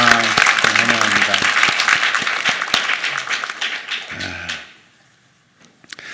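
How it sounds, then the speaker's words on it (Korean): A church congregation breaks into welcoming applause during a Sunday morning service, a dense burst of clapping that fades out after about four seconds, with a few voices over it. "우리 그냥 같이 함께 환영의 박수 한번 하십시다."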